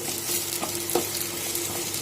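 Sweet pumpkin slices fry in a pan, giving a steady close oil sizzle with a few soft stirring clinks and scrapes, no voices.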